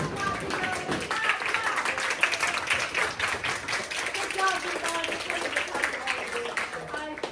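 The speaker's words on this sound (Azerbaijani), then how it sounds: "Bu səhnədə isə keçən bir qətnaməni alqışlayırlar." A room of delegates at a Model UN committee session applauds a passed resolution with sustained, dense clapping, with voices talking over it.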